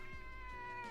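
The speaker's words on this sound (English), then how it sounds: "I don't know if you heard that meow" A cat meows once in protest at being picked up, a single close, drawn-out harmonic cry with a wavering pitch, heard alone.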